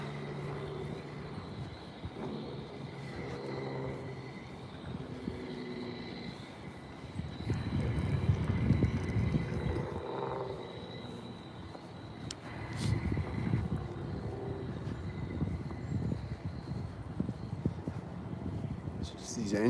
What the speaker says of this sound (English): It's just these engine sounds behind me.